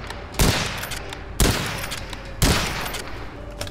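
Three evenly spaced heavy gunshots from the video game Witchfire, each a sharp loud blast with a lingering decaying tail, about a second apart, with no voices.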